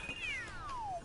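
A single descending cat meow from a cat suit power-up in Super Mario 3D World, a short, bright, gliding cry heard alone and close over faint game background noise.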